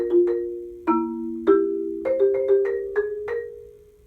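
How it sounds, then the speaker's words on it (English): Mallet percussion notes are struck one after another at a slow pace as slowed-down rolls, some ringing on as sustained tones while new chords and single notes enter. "I'm going to play these rolls on beats 2 and 4 as 30-second notes."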